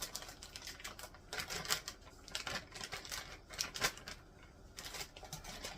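Cut-up steak pieces sizzle in oil in a pan, a steady crackling spatter with frequent sharp pops and bursts throughout, close and fairly quiet with no talking.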